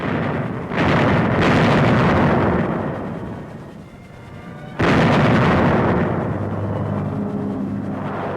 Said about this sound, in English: camouflaged 105 howitzers on gun carriages opened up with a bombardment of warning